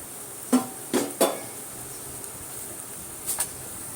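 A plate set down on a kitchen surface while lachha paratha is being made, a few short sharp clinks and knocks close by, spaced apart over a quiet room hum.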